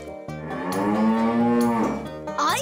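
A cartoon cow lets out one long, loud, close moo that swells and sustains for about two seconds, heard alone without talk, in a children's animated farm scene about milking.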